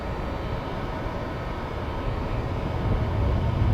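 A submarine torpedo launch in the Cold Waters naval warfare game, heard as a steady low rushing, churning roar that builds slightly in the final second, with no speech.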